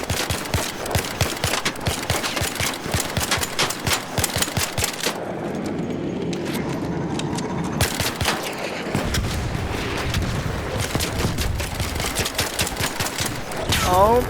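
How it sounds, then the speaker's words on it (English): Rapid automatic gunfire in a video game, bursts of shots rattling almost continuously with a brief lull partway through, loud and close, with players' voices talking over it. "Oh, he's shooting me."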